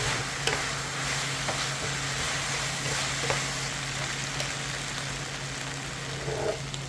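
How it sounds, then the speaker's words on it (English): Chicken spring roll filling is stirred in a pan over a high flame, a steady loud sizzle and hiss running throughout with occasional soft scrapes and taps of the utensil, no voices. "Stir well on high flame until the mixture thickens and comes together."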